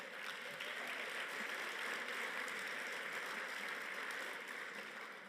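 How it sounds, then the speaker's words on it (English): Applause from an audience at an award event, a soft, even wash of many hands clapping, distant and fairly faint, holding steady throughout and tapering slightly at the end. "Can we get a round of applause for United Way?"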